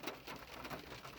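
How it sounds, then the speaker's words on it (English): Steady, heavy rain falls outdoors on a Sunday as a dense, continuous hiss, fairly loud and unbroken, with no voices. "as you can see, it's raining pretty good"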